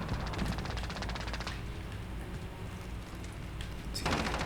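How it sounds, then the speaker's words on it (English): Rapid submachine-gun fire from Call of Duty Specialist mode on a small map, steady dense bursts running throughout, loudest at the start and end, with no talk over it. "I hear a lot of SMGs going off here"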